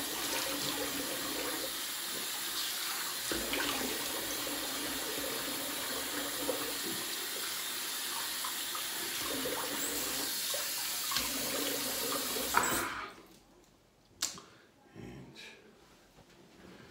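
A bathroom water tap runs steadily while someone rinses off after a shave, with a continuous rush for most of the time. It then cuts off, leaving a few splashes and drips.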